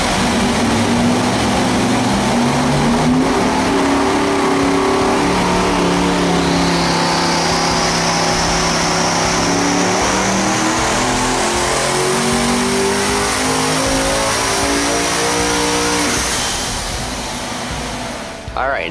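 A powerful V16 engine on a dyno, running 36 psi of boost on race fuel, revs up and holds at high speed, its rising whine loud and sustained before easing off at the end.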